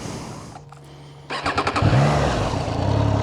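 A motorcycle engine cranks and catches around the middle, then settles into a steady, close idle that fills the rest of the moment, with no voices.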